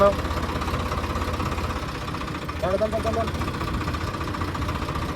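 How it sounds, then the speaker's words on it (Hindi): A tractor engine idles loudly and steadily just after starting, a continuous low rumbling throb with a brief rise in the middle, while people talk over it. "छेड़ लिया ट्रैक्टर तो"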